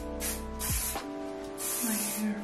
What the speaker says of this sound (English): So just gonna spray